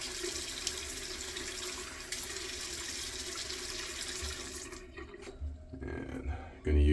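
A bathroom tap running steadily into a sink to wet the face before a morning shave, water hissing continuously, then cutting off with splashes near the end.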